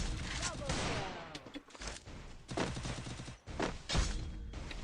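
Sniper fire in a shooter video game, with repeated sharp shots and bursts of gunfire in uneven clusters, loud and close, under talk from a player.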